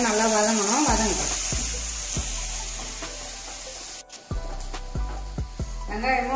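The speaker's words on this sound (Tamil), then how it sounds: "வெங்காயமும் நல்லா இதிலே இந்த பூண்டு வதங்கின அளவுக்கு வெங்காயமும் நல்லா வதங்கணும்" Onions sautéing in a pan with garlic until golden brown, a loud, steady frying hiss with rhythmic stirring knocks, and a voice briefly heard at the start and end.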